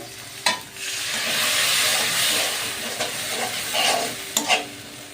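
A small splash of water hits hot spice masala in a pan for restaurant-style palak paneer, setting off a loud hissing sizzle with stirring scrapes and a few sharp clatters, alone and close.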